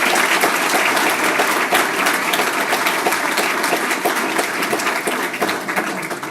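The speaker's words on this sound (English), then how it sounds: "Please give them all a round of applause." Sustained audience applause at a Nisei veterans dinner, a dense, steady clatter of many hands clapping close by, holding level for several seconds before easing slightly at the end, with no speech over it.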